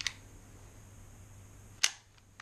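An all-metal airsoft CO2 P08 Luger pistol's blowback toggle action snaps twice, sharp metallic clacks near the start and end separated by a quiet pause, with a faint lingering rattle after the second.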